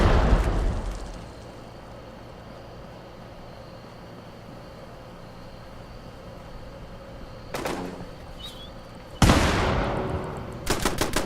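Machine gun fire in the Star Wars Outlaws video game comes in short loud bursts, first a fading rattle, then a quiet stretch before sharp repeated volleys near the end.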